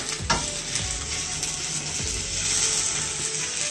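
Dry-aged steaks sear loudly in a hot pan just after flipping, with a steady dense sizzle and a few brief clatters near the start, with no voices.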